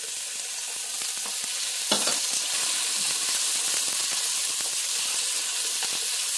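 Abalone and its innards frying in melting butter for Japanese-style butter-grilled abalone, a steady close sizzle and hiss with light stirring scrapes throughout.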